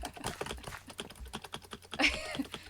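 Rapid clicking keystrokes on a computer keyboard patter close by in an irregular stream, with a faint voice in the background.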